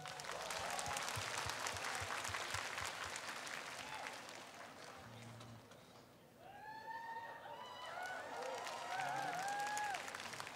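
A concert audience gives a singer a long round of applause, dense steady clapping that dips briefly, then swells again with scattered cheers and whistles.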